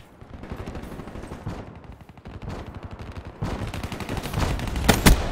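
Continuous gunfire in Black Ops 3, with dense rapid shots that build in intensity and end in a sharp louder burst, loud and close with no speech.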